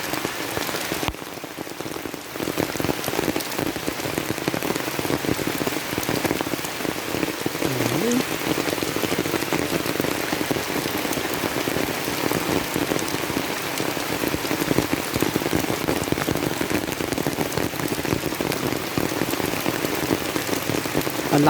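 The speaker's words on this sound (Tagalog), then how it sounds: "Inang patak guys, ang ulan no." Steady rain pours down continuously, pattering densely on surfaces nearby with no break throughout.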